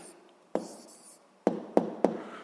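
A pen writes an answer by hand on paper, a short scratchy stroke followed by three sharp taps and scribbles, close and clear in a quiet room.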